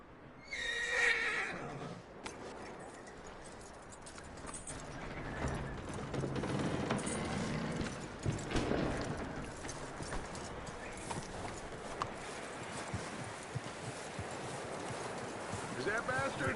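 Horse hooves clop over a busy game soundscape in Red Dead Redemption 2, with a whinny near the start, under continuous background ambience and a voice talking.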